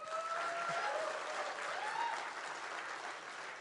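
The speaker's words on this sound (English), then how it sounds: "Either you clap loudly or you don't clap." An audience applauds at a conference welcome session, a dense, sustained wash of loud clapping that fills the whole stretch without letting up.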